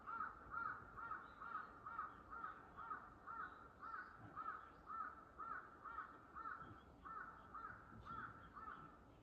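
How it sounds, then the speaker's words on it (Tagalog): A crow caws over and over in an even, steady rhythm, fairly faint and somewhat distant, with no other sounds competing. "Sumagot yung uwak na"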